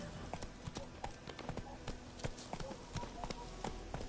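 Hooves of Roach, the horse in the Witcher game, clip-clopping in a quick, steady rhythm at close range, with light ambient noise and a faint voice underneath.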